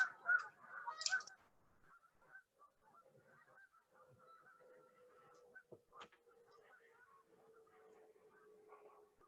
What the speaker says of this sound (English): Can you guys hear the geese behind us in the lake?